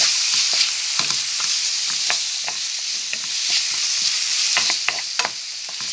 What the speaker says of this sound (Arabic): تخلي البصله ديالي والدجاج يتقلاو مزيان